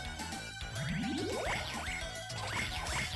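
Bright chiming dings and rising jingly tones ring out repeatedly from The Simpsons Arcade Game, loud and up close over a busy layered game soundtrack, with no talk.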